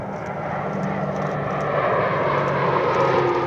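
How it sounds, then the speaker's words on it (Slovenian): A Spartan C-27J military transport plane's engines roar steadily and loudly at close range, a continuous propeller-and-turbine drone that grows slightly stronger toward the end. "sprejemamo novo transportno letalo Spartan C-27J"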